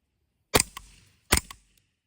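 Two sharp shots from a Foxtrot Mike FMP-9, close and loud, each followed by a brief metallic clatter of the action, spaced under a second apart.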